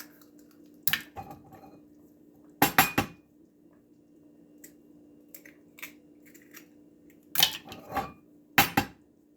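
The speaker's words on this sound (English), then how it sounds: "And I'm going to start adding my eggs in here." Eggs going into a pan over reduced heat for a fava bean and chouriço dish, heard as a few separate bursts of sharp clinks and taps against a quiet, steady background hum.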